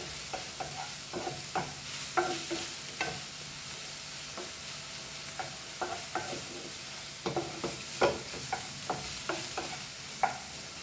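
Green chilies frying in a pan for Goan egg burji, a steady hiss of sizzling oil broken by repeated scraping stirs of a spatula at close range, no voices.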